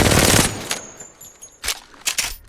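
An R99 submachine gun fires in the video game Apex Legends: a loud, dense burst of rapid automatic fire opens, followed by several shorter separate bursts and shots.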